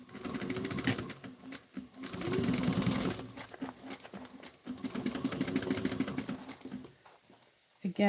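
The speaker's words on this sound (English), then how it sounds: "let's go and sew this around." A sewing machine stitching fabric, running in bursts of steady mechanical whirring with brief pauses, loud and close.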